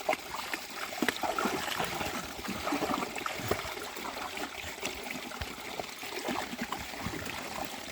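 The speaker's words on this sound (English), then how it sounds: "Crossing that same creek again, the dogs can get some water." A creek flows across a hiking trail on the way to Corrigan Lake, a steady trickling, babbling rush with small splashes throughout, close by and without voices.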